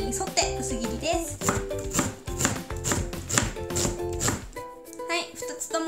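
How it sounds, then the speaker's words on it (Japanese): A knife slicing red onion thinly along the grain, for a Halloween side dish. Quick, steady chops sound close over background music throughout. "紫玉ねぎは繊維に沿って薄切りです。"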